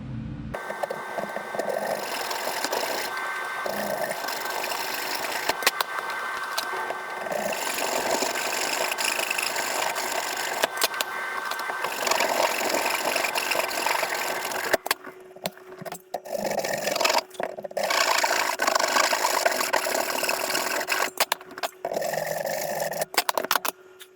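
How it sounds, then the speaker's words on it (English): A power saw cuts the corners off wooden ring blanks, a steady droning whine running for long stretches with short pauses and restarts between cuts, fairly quiet and without any talking. "I'm gonna cut these corners off."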